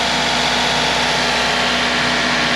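A gasoline car engine idles during fuel system and induction cleaning, a loud, steady, even drone with a constant hum and no voices.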